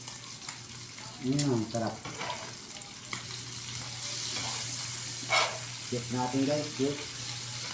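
A favourite everyday home dish frying in a pan, with a continuous close sizzle and stirring scrapes while a person talks over it at intervals.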